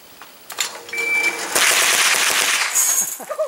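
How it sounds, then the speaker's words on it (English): Rapid shots from a pistol caliber carbine at an action shooting side match, a quick close string of sharp reports with a brief pause, loud and clear with no talk. "Three shots."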